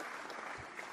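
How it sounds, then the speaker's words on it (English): A canned applause sound effect plays during a screenwriting competition award ceremony: a brief, quiet, even wash of clapping. "We are applauding for you with the special effects, but also in person."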